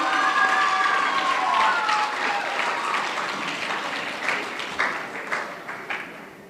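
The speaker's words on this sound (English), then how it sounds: "give Shruthi a huge round of applause for that incredible performance" Audience applause following a Bharatanatyam arangetram dance recital, a full hall clapping loudly at first and then gradually thinning into scattered claps, with a few faint high tones and murmurs beneath.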